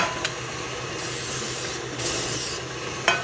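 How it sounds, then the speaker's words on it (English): Non-stick cooking spray hissing into a cake pan in three short bursts, each a broad airy spray lasting around a second, close and fairly loud, with small clicks of handling between them. "you wanna make sure that you are spraying the inside and the edges."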